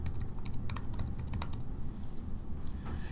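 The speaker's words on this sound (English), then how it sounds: "I'll go ahead and type it in here." Close, crisp keystrokes on a computer keyboard come in quick irregular bursts, then slow to a few isolated taps, with no voices.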